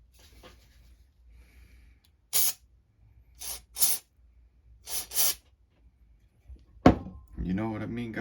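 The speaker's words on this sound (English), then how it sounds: "I think I might spray this with some brake cleaner while I'm in here." Brake cleaner is sprayed onto the engine of a Tamiya TGS-R nitro RC car in several short hissing bursts, close by, followed by a clunk and someone talking.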